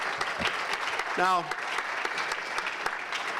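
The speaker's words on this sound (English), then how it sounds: "We have a round of applause for Pete." Audience applause at the Elmhurst Chamber 94th Annual Awards Gala, honoring Pete's Civic Hall of Fame induction: a steady, dense wash of clapping fills the hall, with one brief spoken word from a presenter partway through.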